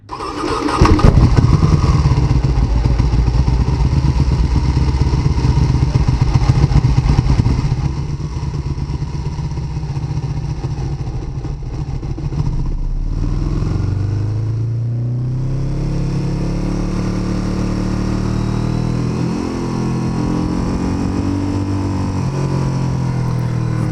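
A Ducati 1299 Panigale S sport motorcycle with carbon wheels roars loudly as it pulls away, then settles into a steady, rumbling engine note with wind noise while riding, alone without talk.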